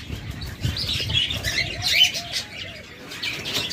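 Rainbow budgerigars in a cage chirp and chatter in quick, bright bursts, with a short run of warbling notes midway, close and fairly loud against a light background rustle.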